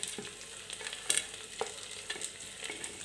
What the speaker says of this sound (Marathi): तर मी हे एकदा व्यवस्थित परतून घेते